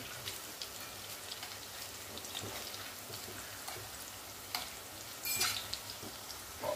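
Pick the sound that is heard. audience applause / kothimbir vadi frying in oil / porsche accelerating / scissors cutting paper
kothimbir vadi frying in oil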